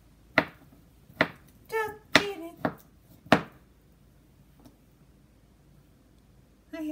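Beets are chopped on a cutting board for beet soup, giving several sharp knife thunks spaced irregularly with quieter rustling between, close by, and a voice briefly heard at the end.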